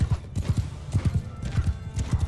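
Horses gallop in the video game Mount & Blade 2: Bannerlord, their hooves thudding in a quick, rhythmic clip-clop that carries loudly and evenly through the whole stretch.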